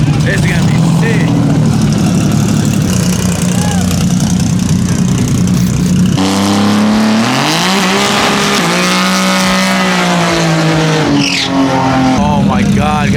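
Nissan GTR drag cars rumble loudly at the line and then launch down the strip, with engines revving hard, a rising roar of acceleration, and brief tire chirps mixed into the steady crowd noise.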